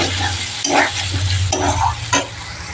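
Leftover jackfruit curry warms in a pan on a home stove, with soft sizzling under a few scraping stirs of a spoon at a moderate level.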